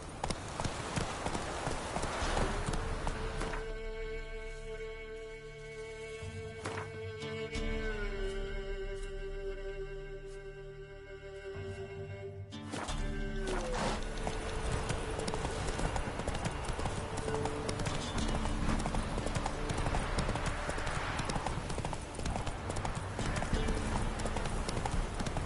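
Steady, rhythmic clip-clop of the horse Roach's hooves in The Witcher 3: Wild Hunt, continuous throughout at a moderate pace alongside game music and ambient tones, with brief spoken lines.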